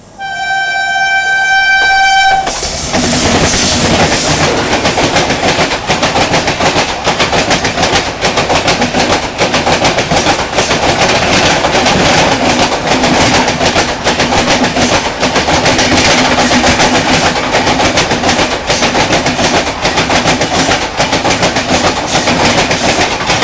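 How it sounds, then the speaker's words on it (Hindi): Mandovi Express on a curve at Nipsar station as another train passes on the crossing, a horn blast opening into a loud, sustained rattle and rapid clatter of wheels over track close by, no voices. "क्या बेहतरीन ट्रैक साउंड से साथ में यहाँ से ट्रेन की क्रॉसिंग हुई है।"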